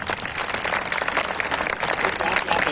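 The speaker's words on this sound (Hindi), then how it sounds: "एक बार फिर इस बच्चे के लिए तालियां बजाएं आप" Audience applause for a child at an Independence Day address in India, a dense, steady wash of many hands clapping at close range.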